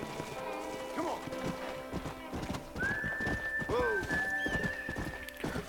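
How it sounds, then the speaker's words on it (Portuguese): A player's horse in Red Dead Redemption clip-clops steadily and neighs loudly partway through, a rising whinny over the rhythmic hoofbeats, with a sustained tone and game sounds around it. "Esse que é o meu cavalo mesmo"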